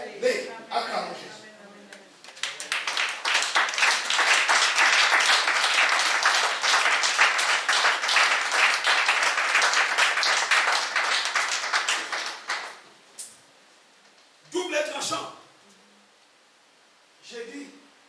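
A church congregation applauds and cheers in acclamation of Jesus during a pastor's sermon, a loud sustained burst of clapping that fades, followed by a few short scattered bursts.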